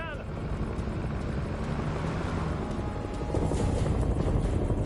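Helicopter flying in during the video game House of Ashes, a steady loud rotor and engine drone that swells slightly toward the end, with a voice talking over it.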